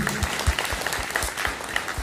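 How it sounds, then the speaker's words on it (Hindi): Loud, steady applause from an audience at a school education dialogue event at an upgraded high school in Madhupur, dense clapping filling the whole moment without speech. "जोरदार ताली होना चाहिए।"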